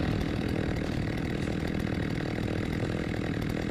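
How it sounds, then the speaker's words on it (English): A chainsaw in The Walking Dead video game revs continuously, a loud, close, rasping buzz that holds steady without pause. "I'm feeling like doing a little bit of chainsaw action here"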